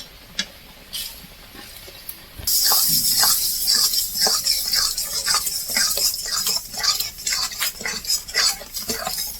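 Lemon pickle cooking in a pan with sugar just added, quiet at first, then a steady bubbling sizzle with rhythmic scraping strokes of a spoon stirring through the thick mixture, close up.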